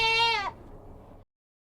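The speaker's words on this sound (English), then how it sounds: "we've got some new sheep that we've got separated" A Painted Desert sheep on a ranch gives one loud, close bleat lasting about half a second, then a short stretch of quieter rustling background before everything cuts to silence.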